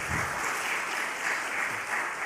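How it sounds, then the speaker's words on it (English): Applause after a rabbi's lecture introduction, modest and fairly quiet, a light, even patter of clapping from a small audience with no voices over it. "Let the record show that there was tepid applause in the introduction."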